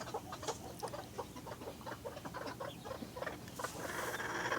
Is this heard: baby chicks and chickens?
yes